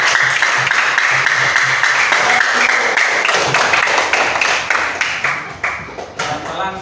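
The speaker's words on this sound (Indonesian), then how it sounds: "Tepuk tangan untuk kelompok 3." Students in a primary-school science class clap for a classmate group, producing loud, continuous, somewhat rhythmic applause that gradually thins toward the end.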